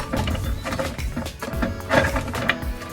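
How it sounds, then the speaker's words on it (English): A kitchen blender runs continuously, churning ingredients for Trinidad-style coconut bake, with a dense, steady mechanical whir and uneven grinding surges at close range. "I'm going to put all of this in the blender."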